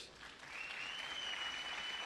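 Faint, distant applause from a church congregation welcoming new members, a soft steady patter of clapping that swells slightly and holds.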